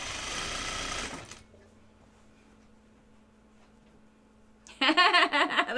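A sewing machine stitches a cardigan seam in two short bursts, a fast close whir at the start and again at the end, with a quiet pause between and no talk.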